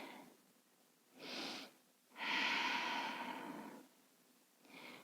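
Slow, deep breaths held during a yoga posture, close and quiet, with a short inhale followed by a long, airy exhale and another breath beginning at the end.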